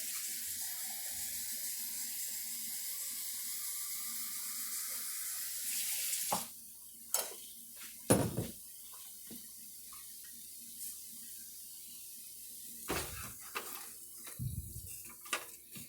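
Water runs steadily from a kitchen tap for about six seconds while filling a pot to make Maine clam chowder, then stops, followed by scattered dish and pot clatter.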